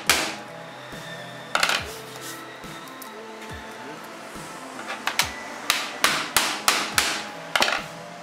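A phone screen fitted with a tempered glass protector is struck repeatedly by a hammer, giving sharp, close impact knocks. They start as scattered single hits, then come in a faster run of regular blows, with some speech in between.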